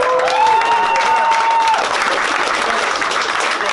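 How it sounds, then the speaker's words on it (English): A rap battle crowd claps and cheers loudly, with a shout riding over the dense applause early on before it continues steadily. "Everybody clap up."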